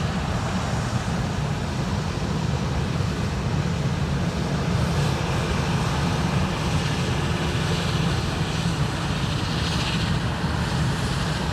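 A Ryanair airliner rolls for takeoff to Milan at Dublin Airport, its engines building into a loud, unbroken roar that fills the whole stretch.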